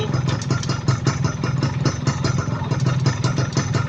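A rebuilt GTO 125 motorcycle engine running steadily close by, its rapid even clattering pulse continuing through gear changes.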